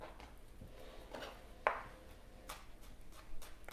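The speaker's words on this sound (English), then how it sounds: "I've got some fresh coriander, which I'm chopping up." Knife chopping fresh coriander for a chicken korma, a few soft, scattered taps against a board with one sharper cut standing out, quiet and close in a kitchen.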